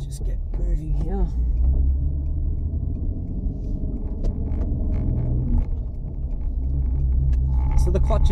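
A Toyota Camry XV20 running on LPG pulls away, its low engine rumble and road drone steady and close inside the cabin, building slightly toward the end, with a voice talking over it.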